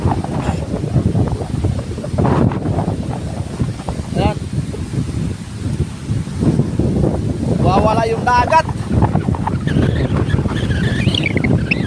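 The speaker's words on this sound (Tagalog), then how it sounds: "Ayan yung pressure kaya yung amihan biglang lumakas" Strong northeast monsoon wind roars and buffets the microphone while people talk over it, with a rough sea of waves nearly two meters high churning in the background.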